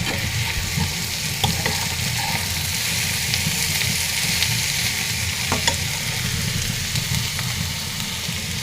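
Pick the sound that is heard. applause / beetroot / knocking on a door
beetroot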